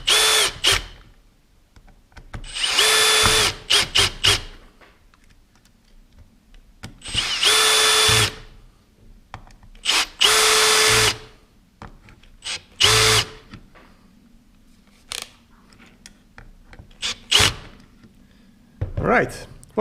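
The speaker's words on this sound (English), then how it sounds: "I'm just being lazy, so I'm grabbing my power tool" A power drill drives screws during a Maglite Magcharger battery upgrade, running in several loud, close bursts of a few seconds each with quiet pauses between them; faint handling noises fill the gaps.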